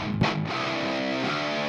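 Electric guitars shaped by EQ with a small boost near the upper mids and by compression, playing a sustained distorted part, dense and steady with a strummed attack at the start, loud and alone.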